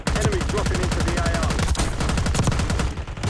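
Rapid automatic gunfire from a battle royale video game, loud and sustained in dense bursts, with a few brief gaps and a faint voice underneath.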